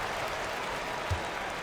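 Home crowd in an NBA 2K basketball video game applauding and cheering, a short steady wash of clapping and crowd noise at moderate level.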